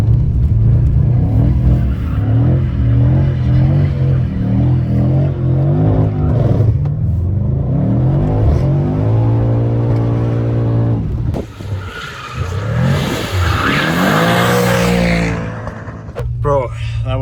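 Mercedes E63S AMG engine roaring loud and close as it accelerates and slides sideways on a slippery surface, with a burst of tire squeal late on; voices talk over it throughout.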